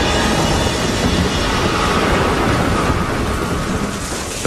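A thunderstorm with heavy rain, as over a ship caught at sea near the Greek island of Antikythera. A loud, unbroken roar of rain and rumbling thunder fills the whole stretch, with no voices.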